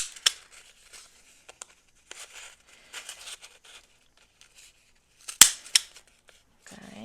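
Paper punch biting through thick washi tape, a few sharp crisp clicks and crunches with quiet rustling between them, close by.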